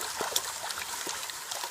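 Water sloshing and washing in a gold pan while panning for gold in Alaska, light lapping and trickling with a few soft splashes, close and quiet over a short span.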